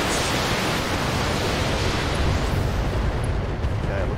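Ammo explosion in a modded BattleTech video game, a loud, sustained rumbling roar of noisy blast that holds steady for several seconds.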